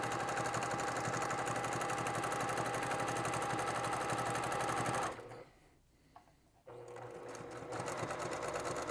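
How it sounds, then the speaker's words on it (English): Sewing machine stitching a seam through a T-shirt quilt top, a steady loud whirring hum that runs for about five seconds, pauses briefly, then resumes and continues, with no speech. "And now we'll sew through here."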